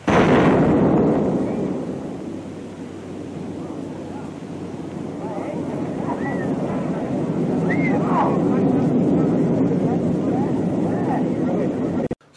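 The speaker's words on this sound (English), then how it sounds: "that explosion that you hear, the rumble, that's actually the first nuclear test" A deep, continuous rumble from the first nuclear bomb test explosion rolls on for about twelve seconds, swelling loudly at the start and staying heavy and broad throughout before cutting off abruptly.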